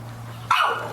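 A puppy gives a sharp close yip or bark after a soft whimpering whine, brief and loud, with no talk.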